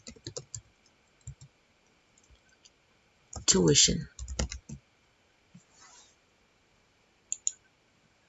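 Keys on a computer keyboard click in short irregular bursts while a voice speaks briefly between the typing.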